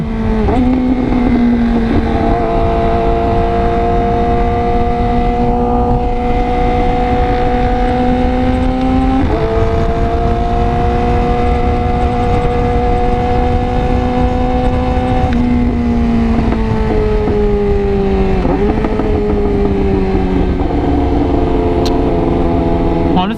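A car engine runs on the road after a Castrol oil change, droning and revving as it climbs through the gears, with pitch rising and dropping at each shift, steady and close under a little wind noise.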